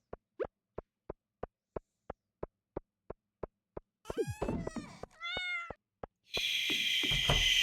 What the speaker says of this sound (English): Shush, cat.